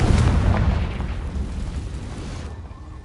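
Fiery Confringo spell blast in the Hogwarts Legacy game, a loud rumbling explosion that rolls and fades gradually over a few seconds with no voices.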